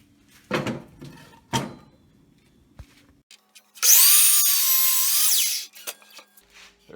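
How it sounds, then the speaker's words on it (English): A miter saw slices through a routed wooden board in a single loud cut lasting about two seconds, with a rising whine and then spin-down, preceded by a few knocks of handling the wood. "we're going to cut on the miter saw every 4 inches."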